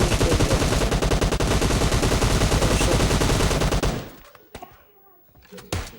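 Rapid automatic gunfire fills the first four seconds of a PUBG Mobile Lite match, loud and dense, then cuts off, leaving a few scattered shots and faint game sounds.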